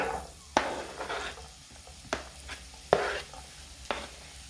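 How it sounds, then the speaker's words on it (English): Garlic and carrots stir-cooking in a hot pan, a soft continuous sizzle broken by several sharp scrapes and clatters of a spatula tossing the vegetables, close and moderately loud with no talking. "So to this I'm adding my garlic to get those aromas out. Remember, all this is going to be stir cooked, so right away I'm also adding the carrots."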